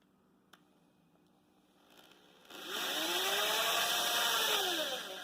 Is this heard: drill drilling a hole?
yes